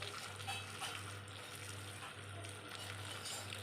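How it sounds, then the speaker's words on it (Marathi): Hot water pours into a bowl of cashews, producing a steady, faint sloshing trickle over a constant low hum, lasting the whole stretch without pause. "या काजूमध्ये मी आता गरम पाणी ओतते"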